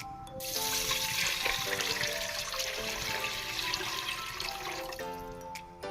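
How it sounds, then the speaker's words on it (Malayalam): Water pours steadily into a pot of rice for egg biryani for about five seconds, a full gushing splash with a rising tone as the vessel fills, then stops. "മൂന്ന് ഗ്ലാസ്സാണ് ഞാൻ വെള്ളം ഒഴിക്കുന്നത്"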